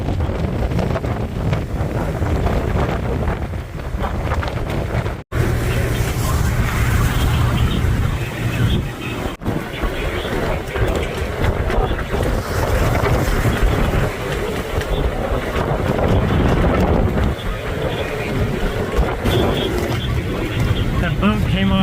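Strong thunderstorm wind batters a sailboat on Chesapeake Bay near Oxford, roaring loud and unbroken across the microphone with one brief dropout.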